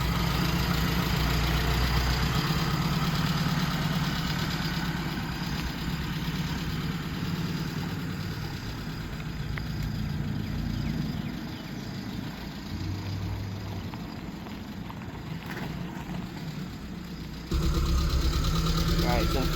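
A Suzuki Samurai engine running in four-wheel-drive low with the hubs locked, a steady close idle that dips and rises, with a person talking over it.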